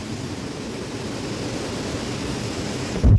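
Steady rushing water at an old water-powered flour mill (gharat) near a temple in Chamba, a continuous broadband flow heard alone, ending in a brief loud thump.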